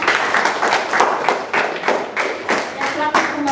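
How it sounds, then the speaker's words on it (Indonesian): A classroom of students applauds a presenting group with rhythmic, unison clapping that pulses in steady beats, fairly close and loud, with a few voices mixed in. "Beri aplaus dulu untuk kelompok 2"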